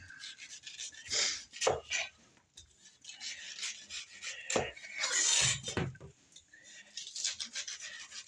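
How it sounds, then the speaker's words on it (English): Knife slicing the white rind off a watermelon, a series of close scraping and rasping cuts with soft wet crunches, irregular strokes as the blade works down and around the fruit. "So you start behind the white and work your way down the watermelon, trimming all of the white off of it."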